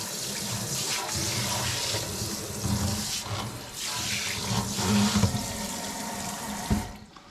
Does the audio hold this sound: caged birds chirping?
no